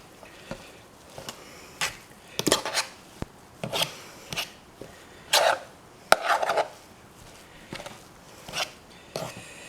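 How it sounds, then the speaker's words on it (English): Canned German meat spread being mixed with sardines and tomato paste into a pâté, heard as irregular scraping, clinking utensil strokes against a bowl, spaced apart with quiet gaps between them. "Now we're supposed to mix it all together according to the recipe into essentially a pâté."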